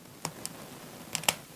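Small snips as a tool cuts through dead, hollow orchid roots, a few crisp clicks scattered irregularly, close and quiet with no talking.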